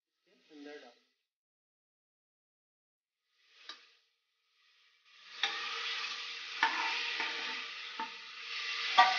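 Hot oil stirred in a pan for koyla chicken, with brief scraping touches early on, then a steady sizzle and hiss from the middle onward, punctuated by several sharp pops and scrapes.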